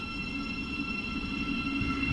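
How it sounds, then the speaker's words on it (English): Electric passenger train on the East Coast Main Line pulling away from New Southgate station, a steady low rumble and rolling hum with faint high whine, continuous and close. "And I think this train is ready to depart."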